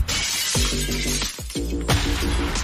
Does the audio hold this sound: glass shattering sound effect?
yes